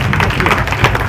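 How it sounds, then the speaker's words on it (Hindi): A crowd at a public gathering in Aurangabad claps loudly and steadily, a thick continuous wash of hand claps with a murmur of voices mixed in. "जोरदार तालियों के बीच में"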